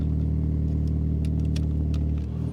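A car engine runs at a steady, loud idle after being started with a Lokithor J1350 PRO jump starter, a continuous low rumble throughout.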